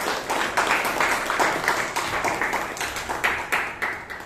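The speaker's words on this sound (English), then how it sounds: "Please give him a huge round of applause." An audience at a Bangalore Toastmasters meeting applauds a speaker with steady, dense clapping that fills the room for several seconds, with no talk over it.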